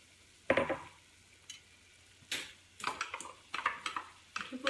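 Onion and celery dropped into a hot pan, with a sizzle and scraping stirs in bursts that grow more frequent toward the end, close and fairly loud with no talking.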